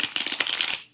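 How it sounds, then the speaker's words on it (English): A quick riffle shuffle of playing cards, a rapid flutter of papery clicks lasting under a second, close and crisp, then it stops. "this is just so you guys can hear me shuffle"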